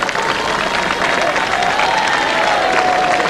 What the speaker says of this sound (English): and there's the applause